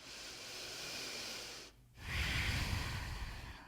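A slow yoga breath during a seated twist: a long, steady exhale hisses out, a brief quiet pause follows, then a fuller, louder inhale rushes in close to the microphone.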